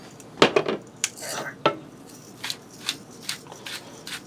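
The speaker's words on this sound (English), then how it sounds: "I'm going to give that a stir" A utensil stirs rice in a pot, giving a run of uneven clinks and scrapes against the metal, several close together early on and then spaced strikes, close and fairly loud.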